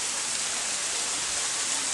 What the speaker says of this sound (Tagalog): Indoor waterfall.